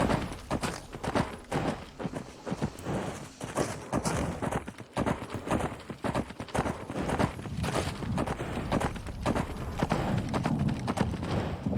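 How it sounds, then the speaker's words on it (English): Rhythmic hooves of a horse clip-clop steadily through the Diabolist VR video game, dense and fairly close, with a brief snort or whinny blending into the continuous trotting. "Come on, horse, let's go. Giddy up."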